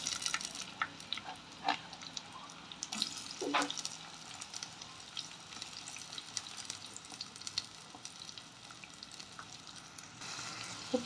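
Onions sautéing in hot oil in a pan for a fish curry, a continuous low crackle and sizzle with occasional spoon scrapes and small clatters, fairly quiet, no voices.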